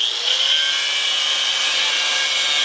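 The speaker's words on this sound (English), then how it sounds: "I want to go down through the head of that rivet, and then I cut an X." A high-pitched power tool cutting through the head of a steel rivet on a truck suspension bracket, a loud continuous whining grind held steady for a few seconds at close range.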